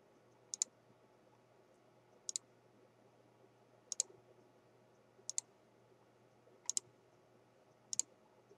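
A computer mouse clicks six times at roughly even intervals, with each click a sharp, close double tick against near silence.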